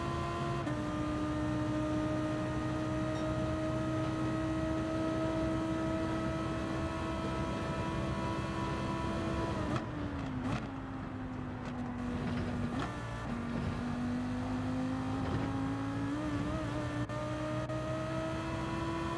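A race car engine in Gran Turismo 7 holds a steady high drone, then dips and climbs again through gear changes around the middle, staying loud and continuous throughout with no talk.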